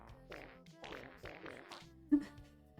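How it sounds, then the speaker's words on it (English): A mass fart command in the Stream Avatars video game sets off a rapid string of rubbery, flatulent blasts over about two seconds, ending with one sharp thump. "I can enter the command for mass fart."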